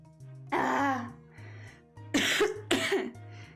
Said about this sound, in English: Goddamn morning cough.